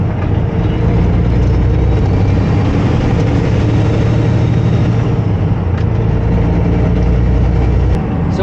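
A semi truck engine with an 18-speed manual transmission drones in 5th gear at low road speed, a loud, steady heavy rumble heard close from the cab with no talk.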